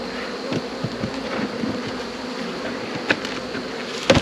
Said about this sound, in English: Tons and tons of bees already on there.